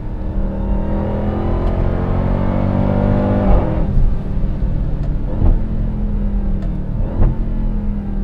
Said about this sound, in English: we're gonna accelerate out of this intersection. I'm gonna paddle shift everything.